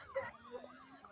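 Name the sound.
police car sirens chasing the player, from a video game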